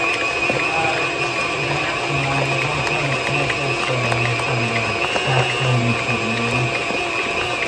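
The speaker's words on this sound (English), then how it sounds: "What do you think I should run the whipper on?" A stand mixer whips cheesecake batter with a constant close mechanical whir and rattle, its low motor hum wavering slightly while the beater churns, with no talking.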